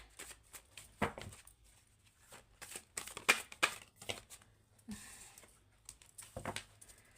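Tarot cards shuffled and drawn during a full moon reading, with soft close-up riffling, flicking and papery slaps coming in quick irregular bursts over a faint low hum, and no voice.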